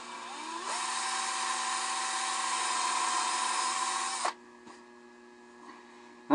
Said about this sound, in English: larger hole is a 1/4 inch brad point bit, so it doesn't need a starting dimple.